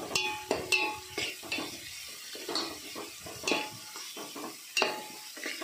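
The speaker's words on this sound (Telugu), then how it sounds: "మగ్గినాక మనం పచ్చిమిర్చి వేసి మొత్తం దీంట్లో వేసి బాగా కొంచెంసేపు వేయించాలి 2 నిమిషాలు." Masala brinjal with green chillies frying in a pan, crackling sizzle broken by repeated sharp clinks and scrapes of a spoon stirring, close and lively with no talking.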